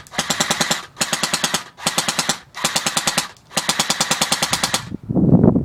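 Lancer Tactical airsoft gun firing BBs in five rapid full-auto bursts, each a dense rattling string of shots with brief pauses between, loud and close, ending with a softer rustle.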